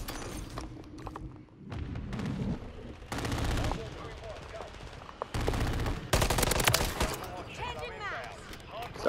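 Loud, close bursts of automatic gunfire from Modern Warfare 3 come in several volleys broken by brief pauses, with players talking underneath.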